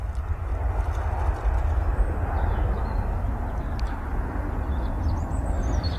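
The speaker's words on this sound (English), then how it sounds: "There goes a Ryanair 737 making a lot of noise" Ryanair Boeing 737 rolling down the runway for take-off at Manchester Airport, a steady, heavy engine roar with deep rumble, heard from a distance over open air.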